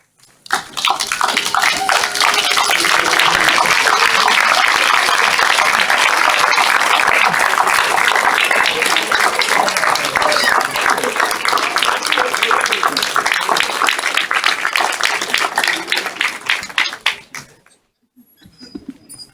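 A large standing crowd at a culinary job training graduation ceremony claps steadily and loudly for over fifteen seconds, the applause thinning out and stopping near the end.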